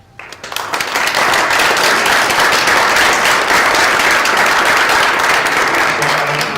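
A crowd at a public transit meeting at Expo New Mexico breaks into applause, a steady, loud wash of many hands clapping that builds quickly and holds throughout.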